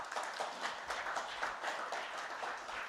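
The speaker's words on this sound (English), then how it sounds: "Can we welcome Habib with a clap?" An audience applauding, a steady wash of many hands clapping at moderate distance, continuous without a break.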